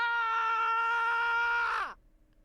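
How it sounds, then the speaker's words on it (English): A character in the Raging Loop video game lets out a loud, sustained scream that holds steady and then drops sharply in pitch and cuts off, followed by near silence. "I screamed at the top of my lungs,"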